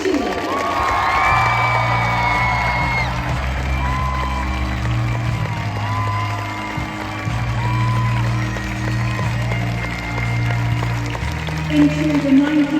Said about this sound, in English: Let's give Julie a huge cheer.